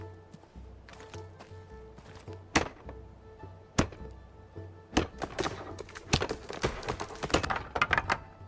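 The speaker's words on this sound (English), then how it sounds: "Another wood explosion." Wooden pieces burst apart in a wall-building simulator video game, heard as a series of sharp thunks and cracking knocks that grow denser and louder toward the end.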